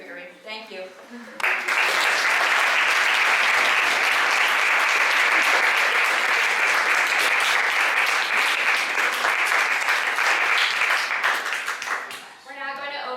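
A seated audience claps loudly and steadily at the end of a talk session, a dense sustained burst of applause lasting about ten seconds before trailing off, with a voice speaking briefly at either end.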